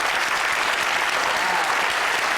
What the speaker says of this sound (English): everyone applauds that